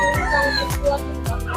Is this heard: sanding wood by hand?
no